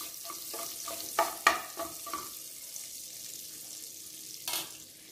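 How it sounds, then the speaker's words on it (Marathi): Four cloves, a piece of cinnamon and cumin seeds dry-roasting in a pan, heard as a soft sizzle with a quick burst of stirring taps and scrapes that then thins to quieter frying, close and without speech. "लवंग 4 लवंग, 1 दालचिनीचा तुकडा आणि अक्के जिरे 2 मिनटं भाजून घ्यायचं"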